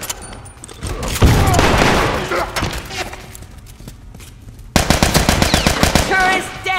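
A machine gun turret fires in The Last of Us, sending loud rapid bursts and a rumbling volley at first, then a sharp, fast rattle of close shots near the end.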